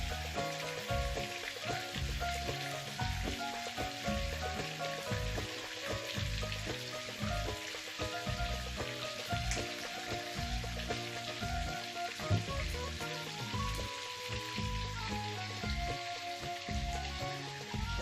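Thin-sliced meat rolls stuffed with cheese sizzle and crackle steadily in a hot pan, a dense, even frying hiss that carries on without a break and with no talking.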